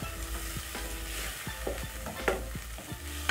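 Onions fry in a pan while being cooked for a green banana and beef stew, giving a dense, close, even sizzle with faint stirring taps scattered throughout and no talking.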